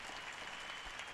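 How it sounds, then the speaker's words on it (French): A crowd at the World Youth Day welcome ceremony in Lisbon applauds in a brief, steady wash of clapping without voices. "Remercions Jésus aussi par un fort applaudissement."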